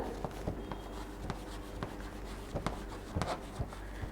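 Pen or marker writing on a surface during a third-grade maths lesson, with short scratchy strokes and faint taps repeating in an uneven rhythm, close and fairly quiet, with no talking.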